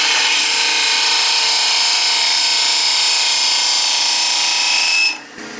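A bowl gouge, flipped over, nibbles at the end of a dovetail tenon on a wood lathe, giving a steady, loud, bright hiss of cutting over the spinning lathe for about five seconds before it drops away abruptly.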